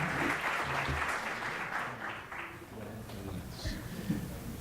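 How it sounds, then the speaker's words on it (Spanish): Audience at a university faculty lecture giving a hearty round of applause for a guest doctor, dense clapping that swells then gradually thins, with a little crowd murmur. "Pido un fuerte aplauso para el doctor Andrés Rode Ponce"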